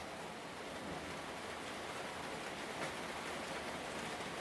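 Steady, soft rainfall hiss in the background, an even wash of drops with no breaks or other sounds, faint and continuous throughout.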